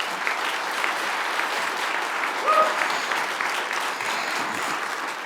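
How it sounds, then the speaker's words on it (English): A crowd applauds a trucking driver of the year for 2023, dense clapping that carries on for several seconds at an even, lively level. "Let's give him a huge round of applause."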